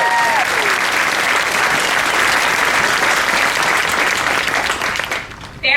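Loud, sustained applause from a large crowd at an Air Force basic military training graduation ceremony for new airmen, steady for several seconds before tapering off at the end.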